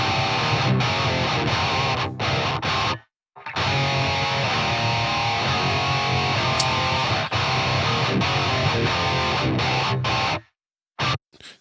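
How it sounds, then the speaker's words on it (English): An electric guitar runs through the Toneforge Guilty Pleasure plugin's distortion, playing loud, thick, sustained driven chords and riffs with brief silent gaps between phrases. "this is your distortion side, and it has your tone, your drive"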